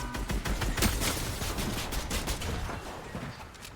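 Dense, rapid gunfire from a video game shooter: overlapping bursts and shots crackle continuously and loudly throughout, with no voices over them.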